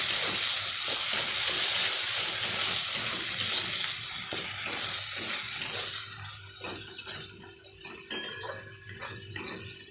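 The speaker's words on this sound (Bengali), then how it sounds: "এই মশলাটা আমি এবার এতে দিয়ে ভালোভাবে ভেজে নেব" Ginger paste, cumin paste, ground coriander and turmeric sizzle in a pan for ghugni, a steady close frying hiss with occasional spatula scrapes and clinks that thin out toward the end.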